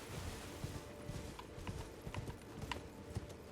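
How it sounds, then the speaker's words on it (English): Horse hooves clip-clop in Elden Ring, a steady run of soft, fairly quiet thuds in an irregular trotting rhythm, heard alone without talk. "to turn the horse around."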